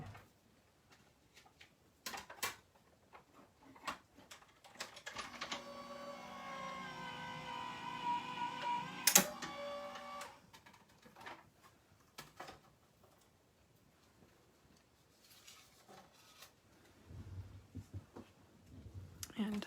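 A craft die-cutting machine feeds a card for a criss-cross pocket card through its rollers, giving a steady mechanical hum with a sharp click midway, loud and alone for about five seconds amid quiet handling noises.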